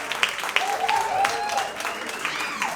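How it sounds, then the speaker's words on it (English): Audience applause rises to welcome comedian Amin Sultani onto a comedy club stage, steady clapping and cheering running throughout with a few sharp claps and a host's voice talking over it. "Put your fucking hands together."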